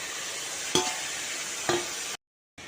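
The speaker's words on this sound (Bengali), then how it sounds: "এবার এটাকে আবার ভালোভাবে ভাজবো," Chopped onion and tomato frying for ghugni in a pan, a steady close sizzle broken by two sharp stirring scrapes, then a brief cut to silence before the sizzle resumes.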